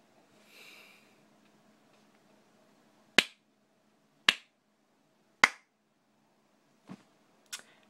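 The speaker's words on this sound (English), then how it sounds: "That was sarcasm clapping." Sarcastic slow clapping: five sharp, isolated claps spaced unevenly over a few seconds, close and dry, following a faint breathy sound at the start.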